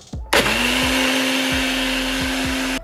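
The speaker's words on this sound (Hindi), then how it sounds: "अब हम इसे ब्लेंड करके बनाएंगे हमारा ओट मिल्क." An electric blender whirs to life after a few clicks and runs at a loud, steady high-pitched whine, blending oats and water into oat milk with no talking.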